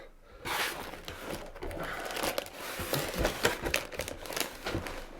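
Lego Technic Bucket Wheel Excavator 42055 box being opened, with tape peeled off the cardboard packaging: close, rustling crinkles and scratchy tearing sounds over several seconds.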